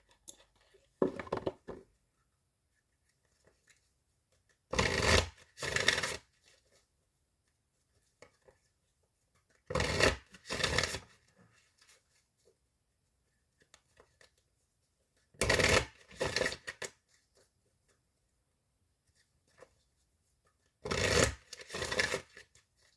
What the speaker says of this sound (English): I'm going to go with the Ascended Masters oracle cards by Doreen Virtue.